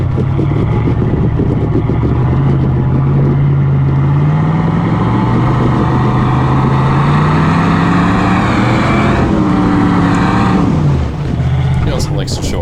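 Jeep YJ with a swapped LS V8 engine revving hard and close, a loud continuous roar whose pitch climbs steadily, peaks, then drops as the throttle eases, with voices faintly talking underneath.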